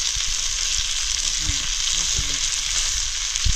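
Fish frying on a roof tile over an outdoor fire in a forest, a steady close sizzle and crackle running throughout with a few soft low knocks.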